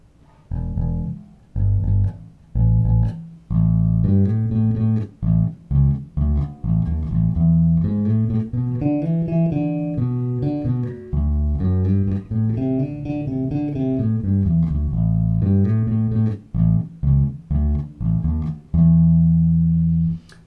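Electric bass guitar with both pickups on and tone fully up, playing a melodic line with plucked notes and sustained passages, bright and full-toned, loud and alone without any talking.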